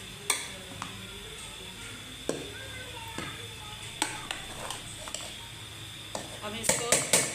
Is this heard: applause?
no